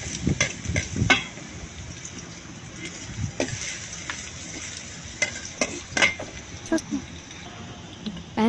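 Onions frying in a pan for chaofan (fried rice), a steady sizzle with scattered clinks and scraping stirs from a utensil against the pan, close up, without speech.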